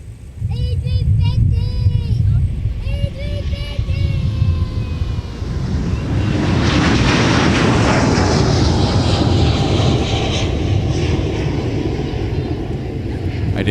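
A large airliner at MSP airport roars loudly and steadily, its engine noise swelling into a broad rumble that builds and holds, with a voice and other chatter heard faintly early on.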